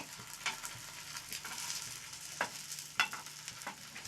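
Egg paratha frying in oil in a flat pan just after being flipped, a steady soft sizzle broken by a few sharp spatula taps and scrapes, close and fairly quiet.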